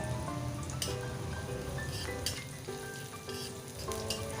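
Garlic and onion sauté in a hot pan for a simple mami noodle soup, giving a steady, busy sizzle with crackling pops and occasional sharper spits, close and continuous throughout with no voices.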